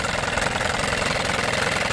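A new 10hp Evinrude outboard boat engine runs steadily up close, a dense, even chugging with a fast knocking rhythm and no talk.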